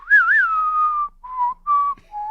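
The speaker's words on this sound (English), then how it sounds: "Good whistler." A person whistles clearly and close up: a rising, warbling opening note held steady, then three shorter notes with brief gaps, no talking.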